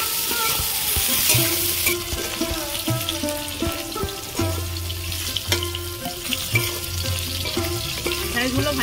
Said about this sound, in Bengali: আমি ঢেঁড়সগুলো ভেজে নেব